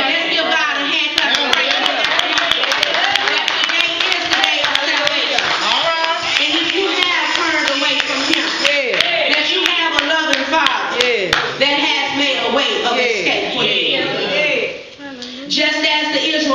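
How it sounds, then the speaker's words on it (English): A church congregation claps hands together in a loud, dense, continuous ovation, with voices and shouts mixed in throughout and a brief dip near the end. "Let's give God a hand clap."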